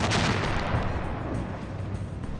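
Ship's cannons fire in a battle against attackers armed with bows and arrows, a dense, continuous roar of booming blasts and gunfire sustained throughout, loud and close with no clear gaps.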